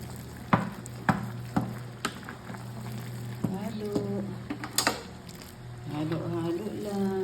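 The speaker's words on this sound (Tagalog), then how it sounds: "Halo lang. Hanggang sa mahalo lahat." Food being stirred in a hot frying pan, with a steady sizzle beneath repeated sharp scrapes and knocks of a utensil against the pan, plus a voice talking in places.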